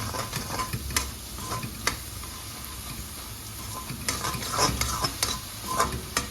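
A ladle stirs and mixes rice puttu with jaggery in a pan, giving a soft continuous scraping rustle broken by sharp metallic clinks against the pan, close and moderately quiet.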